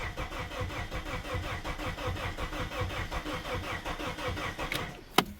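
Abandoned Plymouth Neon's starter cranks the engine in fast, even pulses that never catch, then stops with a sharp click near the end.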